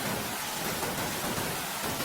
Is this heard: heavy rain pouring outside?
yes